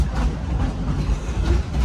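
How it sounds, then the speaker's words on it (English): Train ride at Dollywood theme park, a continuous low rumble of rolling rail cars with faint clicking over the tracks, steady and close, with no talking. "But now I'm going to sit back, relax, and enjoy the train ride."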